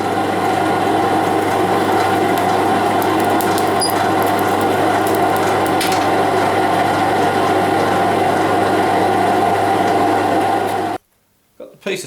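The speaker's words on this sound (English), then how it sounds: "For the noise of the blower, but you can't make a fire as hot as this without a blower." A forge blower runs with a loud, steady motor hum and whir, constant and close for about eleven seconds before cutting off abruptly.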